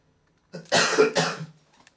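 A man on a podcast coughing, two close harsh bursts in quick succession after a quiet start, near and fairly loud, followed by silence.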